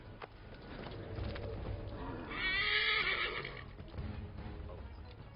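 A horse in Assassin's Creed 3 whinnies loudly in the middle, over steady hoof clip-clop and outdoor game ambience, with a faint voice at times.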